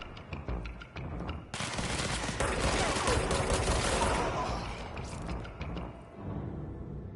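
Gunfire from the video game Control: a few sharp shots open, then a dense sustained burst of rapid firing for several seconds before it tapers off, with faint speech around it.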